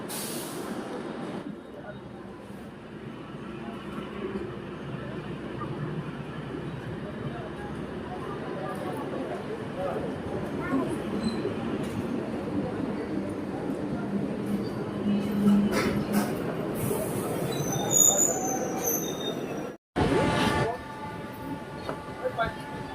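Siliguri Haldibari DEMU passenger train pulling out of Siliguri Town station, a steady low rumble of engine and wheels building gradually, with a brief dropout near the end and sharp high squeals above it.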